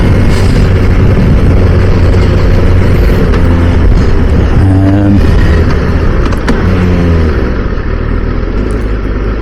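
Honda CBR1000RR Fireblade sport motorcycle on the move, its engine giving a loud, steady drone with shifting pitch as the revs rise and fall, mixed with constant wind and road rush.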